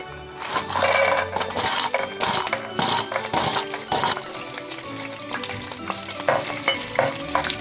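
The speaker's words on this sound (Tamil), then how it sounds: "இப்போ நெய் காஞ்சிட்டு முந்திரியை போட்டுக்கிட்டாங்க" Cashews frying in hot ghee for milk payasam give a steady, dense sizzle close by, with scraping stirs and light metallic clinks of a spoon against the pan throughout.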